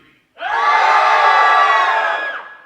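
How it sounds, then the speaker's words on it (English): An audience on the left side of a room screams as loud as it can on a count of three, a dense, sustained crowd roar of whoops and yells that starts abruptly and holds loud for about two seconds before tapering off. "if you could scream as loud as possible, I'd appreciate it"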